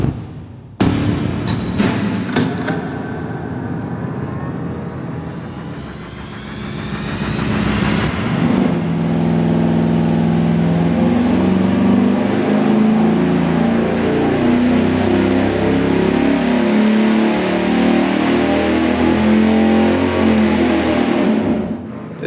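A 440 engine cranks and roars to life, then settles into a loud, steady rumbling run with a throaty low drone.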